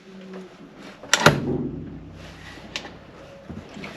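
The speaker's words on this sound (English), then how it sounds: "So, handbrake off." Scopema handbrake in a Ford Transit camper being released and lowered, one sharp mechanical clunk with a short ringing rattle, followed by a couple of softer knocks, close and indoors.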